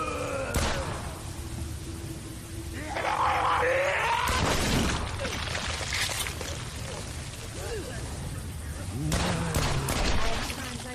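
Rocket launcher and weapon fire in Saints Row 4: a few loud, sharp blasts spaced several seconds apart, over a dense bed of game noise and muffled rumble.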